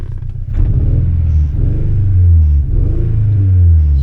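A 2003 Mini Cooper engine runs loud and close, its low rumble rising and falling as the revs climb and settle back down, with no talking.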